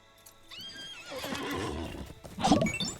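A horse in Lord of the Rings Online neighs with a rising, drawn-out whinny, then snorts and clops its hooves near the end, loud and alone without any talk.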